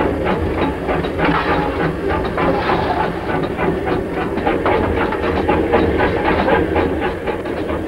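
A coal-fired steam locomotive chugs steadily and loudly, with continuous rhythmic clatter and hissing throughout, close by and without talk.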